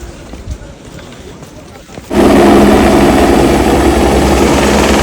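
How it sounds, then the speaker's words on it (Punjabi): On the trek route to Hemkunt Sahib, a helicopter roars in loudly after two seconds of quieter outdoor sound, its heavy, steady rotor and engine noise then holding close and continuous to the end. "ਆ ਜਿਹੜਾ ਤੁਸੀਂ ਹੈਲੀਕਾਪਟਰ ਦੇਖ ਰਹੇ"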